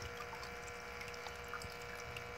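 Water from a small pump spills in a cascade into a garden pond beside a suspended succulent garden, a steady close splashing and trickling wash that runs unbroken throughout.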